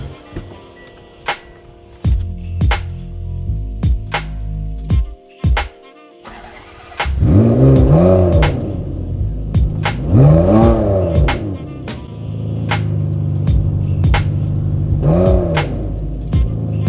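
A modified Ferrari 599 GTB with a 5.9-litre engine revving hard while driven, rising and falling in repeated loud sweeps after quieter idling and brief blips, close and continuous.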